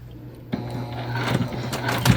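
A sewing machine starts up to topstitch upcycled denim jeans after a moment of near quiet, its motor whirring and needle clattering close by.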